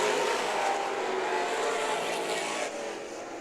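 Super stock race cars at Perris Auto Speedway roar past on the track in a loud, continuous engine drone that eases slightly toward the end, with no talk over it.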